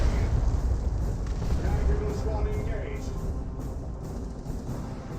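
Stick bombs explode in rapid succession during a Dawn of War 2 battle, with dull booms and bursts overlapping beneath continuous game noise while a voice talks over the action.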